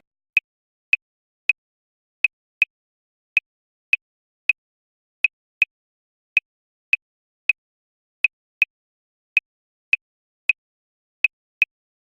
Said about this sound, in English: The son clave has 3 strokes on the first side and 2 strokes on the second side.